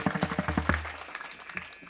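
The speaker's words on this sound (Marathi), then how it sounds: "सगळ्यांसाठी जोरदार टाळ्या वाजवा." A kirtan audience claps in a quick, steady rhythm for about three quarters of a second, then the clapping thins into scattered, fainter claps.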